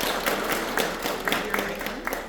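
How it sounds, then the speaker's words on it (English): Audience at a parenting psychology talk applauds to welcome a speaker, a moderate crowd clapping in a steady spread of overlapping claps, close and fairly loud. "Please give her a round of applause."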